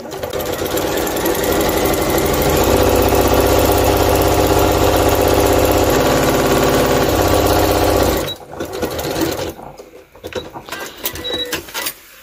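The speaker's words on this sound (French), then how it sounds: "on va commencer à coudre" A sewing machine stitching a fabric pouch runs loud and close in a fast, steady mechanical rattle for about eight seconds, then stops, leaving quieter handling clicks and fabric rustles.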